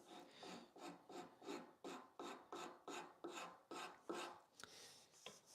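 A rasp shapes the curve of a wooden leg for an entryway bench in about ten even, rhythmic push strokes. The rough scraping is close and clear, with no talking.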